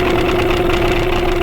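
A Tohatsu 9.8hp two-stroke outboard motor runs at a steady, loud idle close by, with an even mechanical drone throughout and no voices.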